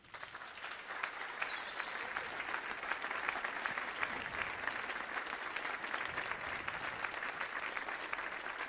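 Concert audience at a jazz performance applauds a pianist with sustained, even clapping from a large crowd, steady for several seconds.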